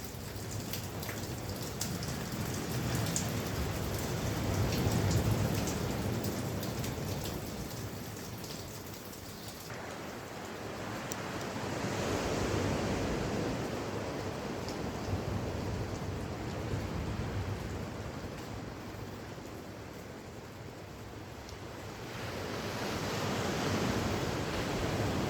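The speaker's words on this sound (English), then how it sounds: "The combination of the sound of the waves and the water trickling off the edge." Ocean surf rolls in on a Vancouver Island beach while water trickles off a ledge, making a soft, continuous hiss that swells and recedes in slow waves, with no voices.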